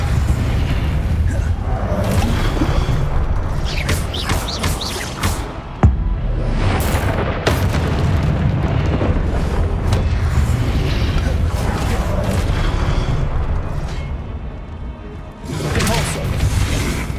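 Depulso spell blasts in the Hogwarts Legacy video game land as repeated booming impacts and whooshes in a loud, dense stretch of combat sound with no pauses.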